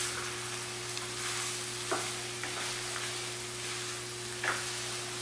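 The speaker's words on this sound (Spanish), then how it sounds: "Estuvo friendo como 3 minutos junto con el chile, todo, la cebolla" Onion, corn and chile sizzle steadily in a hot pan, with a few scraping stirs of a spoon cutting through the frying.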